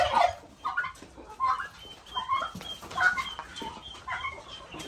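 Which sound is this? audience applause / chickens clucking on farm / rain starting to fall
chickens clucking on farm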